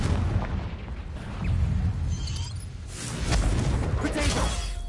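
Confringo blasting-spell explosions in Hogwarts Legacy, with several crackling bursts and booms, some shattering debris, and dense combat noise throughout.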